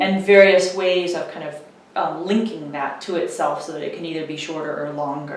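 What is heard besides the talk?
No everyday noises stand out.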